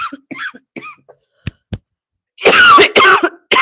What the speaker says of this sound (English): I've been coughing all this time